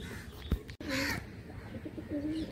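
Pigeons in a Chennai-line Kaldama pair at a loft in Munsirhat, Howrah, cooing in soft low rolling calls, with a brief sharper burst near the start and a steady murmur throughout, close by and with no talk.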